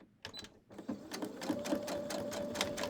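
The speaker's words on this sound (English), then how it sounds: "let's just run these through 1/4-inch seam allowance." A sewing machine stitches fabric pieces along a quarter-inch seam allowance, its rapid needle chatter starting up and running steadily and close, with a soft hum beneath.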